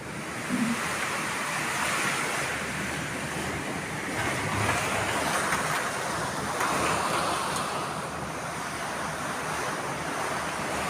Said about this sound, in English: it's got really strong now. It's really strong now